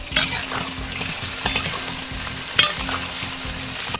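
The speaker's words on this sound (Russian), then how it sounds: "Надо масло нагреть как следует и обжарить вот эти лакомые кусочки на косточках, хрящики, как можно глубже." Meat pieces on the bone and cartilage frying deep in hot oil in a wood-fired kazan, a loud continuous sizzle with steady crackle and a couple of sharp spits, no voices.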